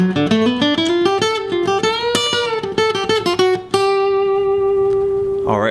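Country bluegrass guitar lick played fast and close: a rapid run of picked single notes climbing and bending, ending on a long sustained note with vibrato and a final short scrape, no talking.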